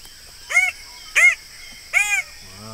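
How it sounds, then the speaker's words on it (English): A male red bird of paradise gives three loud, separate harsh calls during a courtship dance. The calls come at a steady rhythm about 0.7 seconds apart and sound close to the listener, with a short low rumble at the end. "A male red bird of paradise competing to attract a female by dancing."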